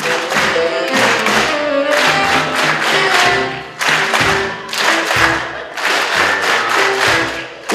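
A concert audience in Zaporizhzhia applauding and clapping along, loud and dense, with rhythmic claps over music with a beat, continuing with brief dips.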